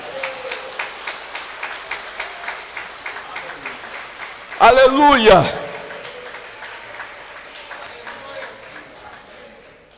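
Church congregation clapping in a steady rhythmic beat, followed by a loud voice exclaiming, then fading rhythmic claps and murmur continuing under the sound of the room.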